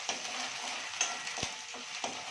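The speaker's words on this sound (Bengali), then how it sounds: "এখানে আদা রসুন বাটা ভালো করে ভাজা হয়ে যাচ্ছে।" Ginger garlic paste fries in a pan for chilli chicken, a soft continuous sizzle with a few scraping stirs and light clicks of the utensil.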